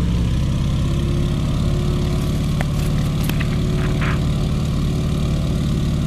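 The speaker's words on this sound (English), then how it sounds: "Starter on. And we have ignition." A Stearman biplane's radial engine runs with a loud, steady droning rumble in Microsoft Flight, close and continuous, with a few brief clicks and knocks over the running engine.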